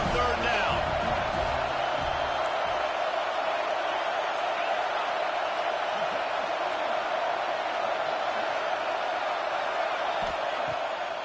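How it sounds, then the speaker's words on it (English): Steady, dense roar of a stadium crowd at a BYU vs USC college football game, loud and continuous throughout with no breaks, a broad wash of massed voices rising behind the defense on third down. "Decibels rising as the crowd gets behind this defense on third down."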